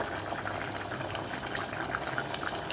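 Bottle gourd tamarind curry simmers in a pot with soft bubbling and gentle liquid gurgles. It stays faint and steady, with no talking.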